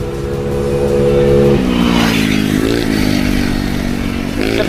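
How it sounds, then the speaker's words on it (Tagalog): A fast vehicle passes close by on a mountain highway descent near Tagaytay, its engine tone sliding downward as it rushes past, followed by a second swelling whoosh near the end. "Except lang kung may ganyan bibilis na sasakyan."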